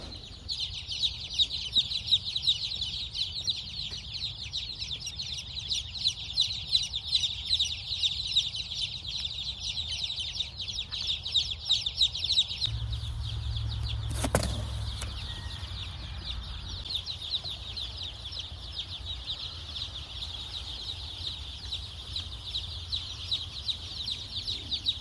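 About 500 chicks cluck and peep together in a steady, busy chorus, with a brief rumbling thump partway through.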